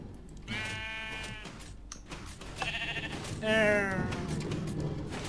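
Sheep in the video game Funny Rail bleat in several wavering cries, the loudest near the end, set against game music and noise.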